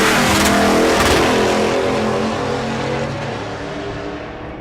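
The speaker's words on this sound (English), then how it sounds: "Trying his hand at streetcar stick shift racing." Stick shift street cars drag racing at Bandimere during Rocky Mountain Race Week, a loud roaring engine revving hard at close range and then slowly fading as the car pulls away, with no talk.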